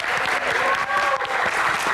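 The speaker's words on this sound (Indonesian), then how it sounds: "Tepuk tangan sekali lagi" Enthusiastic applause from a close, loud audience at a Q&A session with a band, thick sustained clapping with a few cheers and shouts running through it.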